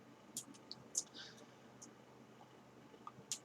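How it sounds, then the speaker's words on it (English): Faint, scattered clicks from a computer keyboard, a few sharp taps spaced irregularly over a quiet low hiss. "you can still probably hear the clicking, and well, that's my keyboard"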